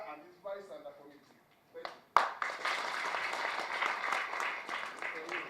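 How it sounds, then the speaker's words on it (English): After about two seconds of someone speaking, an audience at a ministerial meeting breaks into sustained clapping with a sharp onset, and the applause stays dense and fairly loud to the end. "You clap for chair and his vice and the committee."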